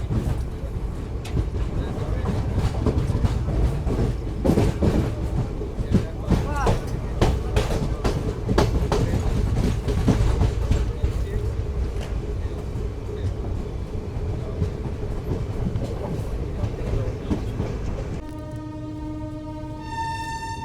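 The Teesta Torsa Express runs on the rails with a continuous rattling clatter of wheels and carriages, rhythmic knocks throughout, and a sustained horn near the end; a voice talks over it.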